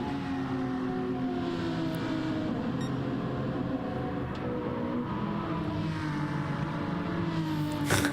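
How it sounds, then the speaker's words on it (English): GT race cars in a sim racing endurance event at Fuji drone together in a continuous layered engine whine, several cars blending into one steady roar without talk. "Finally, you can hear the cars."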